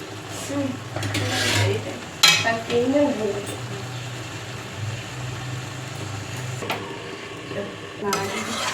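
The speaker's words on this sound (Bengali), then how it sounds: "খুলে একবার মা নাড়িয়ে দিচ্ছে যাতে মশলাটা নিচে না লেগে যায়।" Mutton is stirred with spices in a frying pan, giving a steady sizzle with scraping and clinking of the spoon in bursts, while a voice speaks briefly at times.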